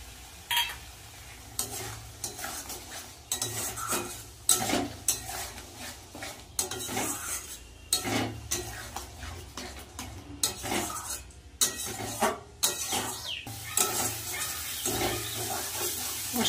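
Shelled peas fry in curry masala as a utensil scrapes and clatters repeatedly against the pan, irregular stirring strokes over a steady, gentle sizzle, close and fairly quiet.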